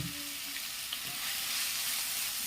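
Finely chopped onions sauté in hot oil, a faint, even sizzle and hiss with light stirring, quiet and close, without speech.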